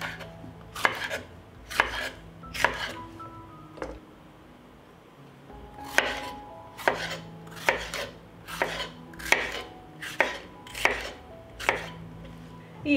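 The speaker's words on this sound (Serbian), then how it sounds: "Očišćenu papriku iseći ću na krupnije komade." A knife chops cleaned bell pepper into large pieces on a board, with sharp, fairly close strikes coming in uneven bursts and a short pause partway through.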